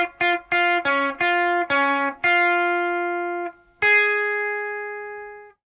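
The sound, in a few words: guitar playing a song's lead melody starting phrase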